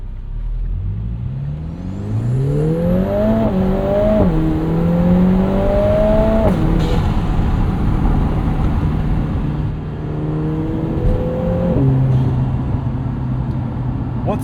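A 2024 Lotus Emira Turbo sports car with an AMG-sourced turbocharged engine pulls hard, its note climbing steadily through two upshifts, loud and close over road rumble and a turbo whistle.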